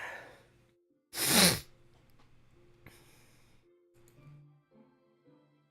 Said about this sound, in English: Bless you. God bless you.